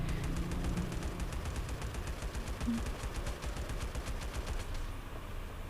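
Sustained rapid automatic gunfire in the video game LifeAfter, a steady stream of close, loud shots that runs for several seconds before cutting off near the end.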